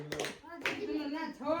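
A few people clap briefly and faintly at a family birthday celebration at home, with voices and a child's speech mixed in.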